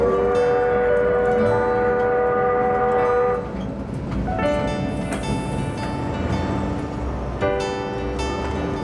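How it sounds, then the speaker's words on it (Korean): Gokseong steam tourist train running with a steady rumbling roll and rattle, a sustained tonal whistle-like hum layered over it, continuous and fairly loud with a shift in texture partway through. "야, 이 추억의 기차."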